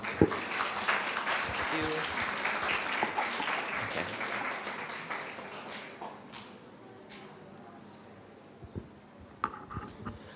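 Audience applause at a school club expo welcoming the Engineering Club Aerospace, a dense wash of clapping that is loud at first, then thins and fades toward the end, with a few scattered claps and murmuring voices.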